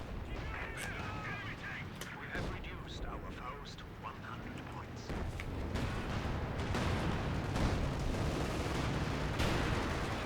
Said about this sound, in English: Bazooka team's about to fire. They do.